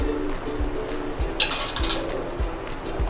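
A spoon scrapes and clinks against the pan while crab curry is stirred, making a series of light metallic taps in an uneven rhythm. The sounds are close and fairly clear, and there is no talking.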